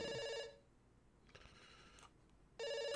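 Telephone ringing in the video game Dr. Langeskov, two loud electronic bell rings separated by a quiet gap with faint background sounds in between.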